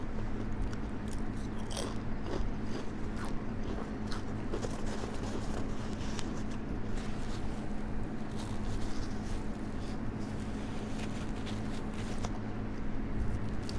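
Crunchy chips chewed close to the mic during a homemade pizza mukbang, steady crisp crunching and biting throughout at a low level, with no talking.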